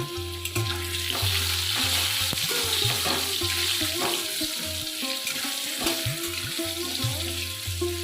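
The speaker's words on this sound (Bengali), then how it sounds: "আলুগুলো ভালো করে লাল লাল করে ভেজে নেবো" Potatoes fry in hot oil with a steady, loud sizzle. A spatula occasionally clatters and stirs through it, and a low hum sits underneath.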